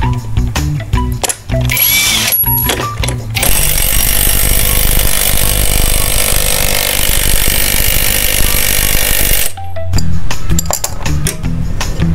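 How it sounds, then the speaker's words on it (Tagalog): On a Honda Click 125i, an impact wrench works the pulley nut in one loud, close, rattling burst lasting about six seconds. Clinks and shop clatter come before and after. "Gagamit tayo ng impact range."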